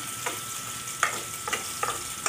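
Garlic sizzling in a frying pan for a mussel dish, a steady close sizzle broken by several sharp scraping stirs of a utensil at irregular intervals.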